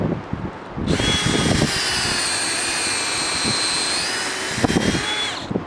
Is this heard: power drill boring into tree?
yes